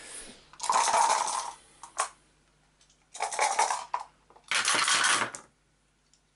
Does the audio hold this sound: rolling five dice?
yes